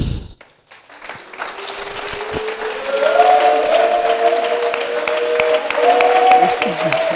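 A church congregation standing and applauding in praise, sustained loud clapping from a crowd in a hall with music and a voice rising underneath.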